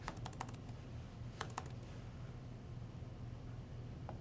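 Keys on a computer keyboard are tapped in a few quick, quiet bursts of clicks, separated by pauses over a soft background hiss.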